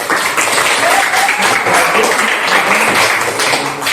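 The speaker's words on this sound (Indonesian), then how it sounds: "Oke, beri aplaus." A classroom group bursts into loud, sustained applause, many hands clapping densely together for several seconds before tapering slightly at the end.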